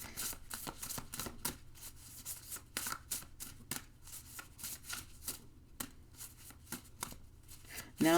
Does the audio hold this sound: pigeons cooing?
no